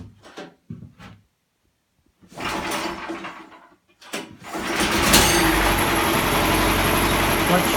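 The electric-start engine of a home-built, clutch-driven sawmill turns over after a few spoken words, then settles into a loud, steady close running roar.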